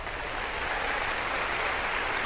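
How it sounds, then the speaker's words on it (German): Steady, dense clapping from someone in the space game Star Citizen, an even patter of claps that holds for the whole short stretch at moderate level with no voices over it. "Ach, da klatscht jemand."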